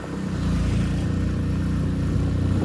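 A 100cc motorcycle labors up a steep mountain road in Uttarakhand, its engine a steady, loud, continuous drone close by that holds without letting up, and no one speaks.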